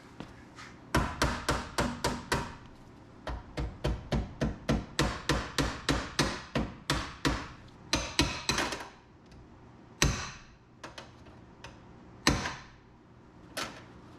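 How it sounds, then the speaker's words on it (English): Rapid, steady bodywork-hammer hammering on a Nissan Pathfinder WD21 metal fender, dozens of close, ringing taps in long runs, slowing to a few heavier isolated blows at the end. "Bodywork hammer."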